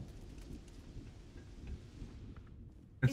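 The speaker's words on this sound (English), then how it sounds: "It's pretty rainy." Steady rain pours in the video game Starfield, a dense hiss over low rumbling thunder, ending with a sudden close thud.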